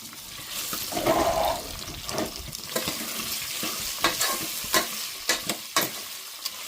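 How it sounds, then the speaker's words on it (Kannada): Cashews and potato pieces fry in hot oil while being stirred, a continuous close sizzle with scraping strokes and sharper spatula knocks toward the end. "ಒಂದೊಂದು ವಸ್ತು ಹಾಕಿದ ಮೇಲೂ ಈ ತರ ನಾವು ತಿರುಗಬೇಕು ಯಾಕಂದ್ರೆ ಫ್ರೈ ಮಾಡಿರ್ತೀವಿ"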